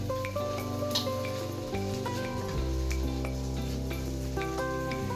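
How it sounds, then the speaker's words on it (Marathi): A bottle gourd thalipeeth sizzles in ghee on a hot tawa, a steady close crackle that runs throughout, with a constant tonal hum beneath it. "आता आपला तवा चांगला गरम झालेला आहे. आपण यावर थालीपीठ टाकूया."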